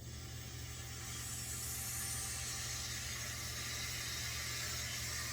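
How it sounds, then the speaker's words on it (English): Air rushing back into an epoxy resin vacuum degassing chamber, a steady broad hiss over a low mechanical hum, constant and fairly faint, with no voices. "after it's had time to sit, we will let the air flow back in."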